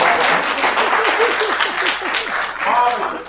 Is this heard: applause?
yes